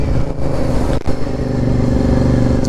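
A Honda VTR 1000cc motorcycle engine runs steadily at close range, a loud continuous throb with a brief dip in the middle, heard on its own.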